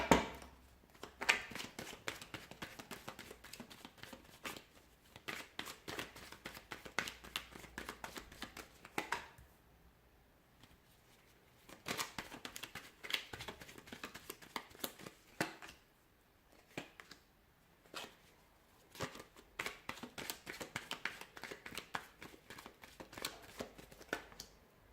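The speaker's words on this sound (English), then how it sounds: "let's give the cards a shuffle and begin" Tarot cards being shuffled by hand, with repeated rapid riffling bursts and soft flutters, close and clear, pausing briefly around the middle before resuming, with no talking.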